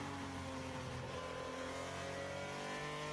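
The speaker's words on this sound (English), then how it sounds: "Running at the rev limiter at the end of the straight, perhaps." A GP3 race car engine screams steadily at its rev limiter along the end of the straight during the 2016 Spanish Grand Prix, a loud, sustained onboard drone with a constant high pitch and no talk.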